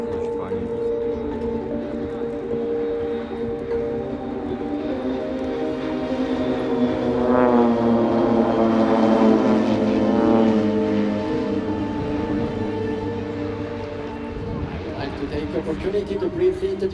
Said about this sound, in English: get together to perform this high quality display on propeller aircraft